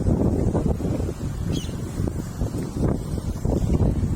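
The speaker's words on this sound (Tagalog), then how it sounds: "Gabi pa to, mahangin." Steady wind buffets the microphone, a continuous rough rumble with gusty surges and no voices.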